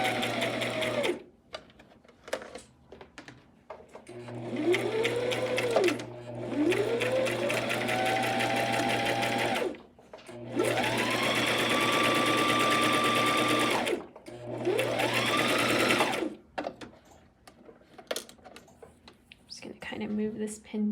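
A sewing machine stitches chiffon fabric strips for a scrunchie headband, running in several steady whirring bursts with rising and falling motor pitch, separated by short pauses, loud and close, with a voice talking over parts.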